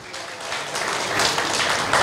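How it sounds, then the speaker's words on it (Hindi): Audience at a speech event applauding for a doctor, a dense, building wash of clapping from many hands that grows louder toward the end. "एक बार जोर से तालियां बजाइए डॉक्टर जी के लिए"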